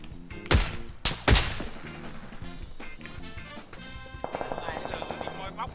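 Gunfire in the PUBG battle-royale game: a few loud, sharp shots crack in quick succession near the start, followed by quieter scattered reports and game sounds while people talk over it.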